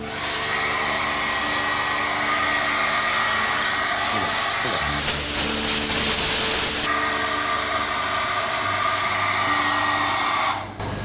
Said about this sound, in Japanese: 今こうやってあのドライヤーでブースの中からホコリを追い出して